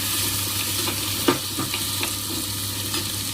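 Onions and tomatoes sizzle steadily in a hot frying pan, with a few soft stirring scrapes and clicks breaking through the constant close crackle.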